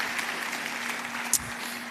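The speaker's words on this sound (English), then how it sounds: "Please, another round of applause for her." Steady applause from a lecture hall audience at a central bank governor's annual lecture at a university. The dense clapping holds at an even level throughout, with one brief sharp clap near the end.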